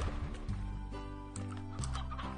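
Chickens in the video game Slime Rancher cluck in short, repeated bursts, a few close, loud calls overlapping with one another, with no talk over them.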